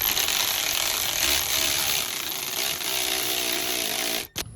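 A hand ratchet tightens the serpentine belt tensioner on a Toyota Corolla with a 2ZR-FE engine, giving a loud, close, continuous stream of rapid clicking that cuts off abruptly near the end.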